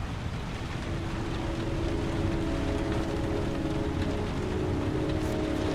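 Rain falls steadily in the Heavy Rain video game, a constant dense hiss of drops with a low rumbling wash beneath and no one talking.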